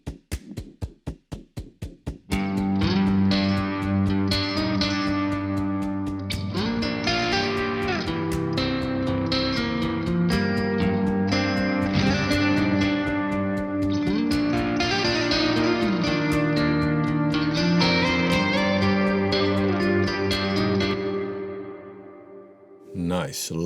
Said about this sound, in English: Nice, lush reverb. Let me turn off that percussion effect.